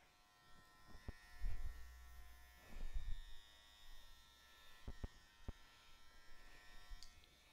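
Electric hair clipper cutting hair during a live haircut class, a faint steady buzz with soft snipping and brushing noises and occasional clicks, heard close and quiet with no talking.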